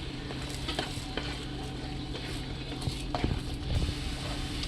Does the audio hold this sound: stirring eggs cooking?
yes